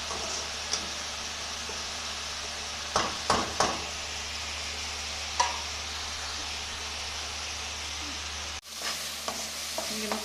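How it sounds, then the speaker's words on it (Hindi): Spice masala with garam masala, salt and turmeric roasting over low heat with chicken tikka pieces: a soft, continuous sizzle broken by several sharp spoon scrapes and clinks against the pot, no talking. "ये मसाला हमारा अभी भुन रहा है।"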